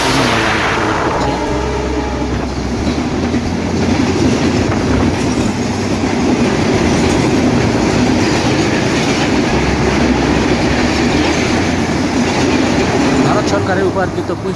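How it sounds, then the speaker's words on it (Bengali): The 727 Rupsha Express, hauled by a 6500-series locomotive, thunders through Azimnagar railway station on line 2, a loud, close and continuous roar of wheels and carriages with rhythmic clickety-clack from start to finish. "সিলেহাটিগামী 727 রূপসা এক্সপ্রেস আজিমনগর রেল স্টেশনের 2 নম্বর লাইন দিয়ে থ্রু পাস করে চলে যাচ্ছে সিলেহাটি অভিমুখে"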